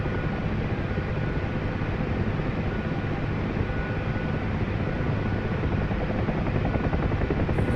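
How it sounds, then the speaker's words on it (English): In the game DCS World, an Mi-8 helicopter comes in to land, its loud, dense rotor and turbine roar running unbroken and close throughout. "the MI-8 is getting ready to touch down"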